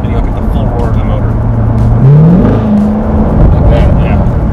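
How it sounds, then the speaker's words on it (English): A 2015 Chevrolet Corvette Stingray engine in sport mode roars close by, its pitch climbing sharply mid-clip as the exhaust opens up, loud and steady throughout with a voice speaking over it. "As you step on it, the exhaust valves will open up, and you'll get the full roar of the motor"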